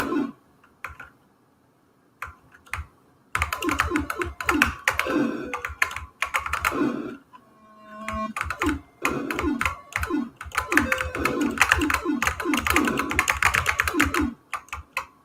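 Keys clatter rapidly and unevenly on a TI-99/4A computer keyboard during a game, dense bursts of close, loud clicks with brief pauses, a short electronic tone sounding in the middle.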